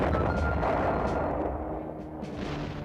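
Cannon artillery of French forces bombards the fortress walls of Constantine during the 1837 siege. A dense, continuous rumble of heavy fire and deep booms rolls on throughout, loud and without pause.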